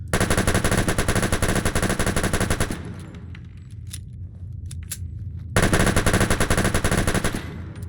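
Chinese stealth pistol firing in Fallout 4, a loud sustained burst of rapid shots, a short pause with softer clatter, then another loud burst, with no talking.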